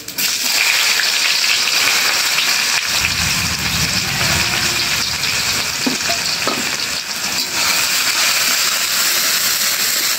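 Onions hitting hot oil with whole black peppercorns and cumin, a loud dense sizzle close up that surges as they drop in, with stirring scrapes and a few small clinks throughout.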